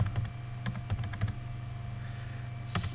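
Fingers tapping on a computer keyboard while entering a Windows 8 file path, giving quiet clusters of quick keystrokes with short pauses between them.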